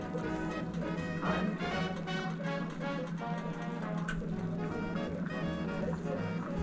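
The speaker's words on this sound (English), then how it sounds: "This thing's bubbling pretty good." A pot of water with dumplings bubbling hard on a kitchen stove, giving a steady, busy simmering and popping texture that runs unbroken and fairly close throughout.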